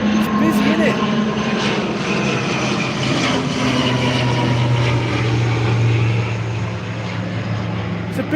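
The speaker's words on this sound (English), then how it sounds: "It's a busy little flight path" Propeller aircraft flying overhead along a busy flight path, a steady droning engine rumble that slowly shifts in pitch as it passes, with a person talking briefly under it.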